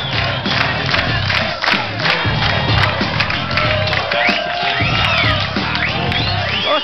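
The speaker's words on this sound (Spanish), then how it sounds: "Un fuerte aplauso para Zulema" A studio audience at a contestant show cheers, whoops and shouts loudly for a woman walking forward. The roar is dense and continuous, with high yells rising above the crowd throughout.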